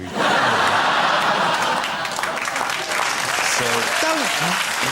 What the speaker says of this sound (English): Don't clap that!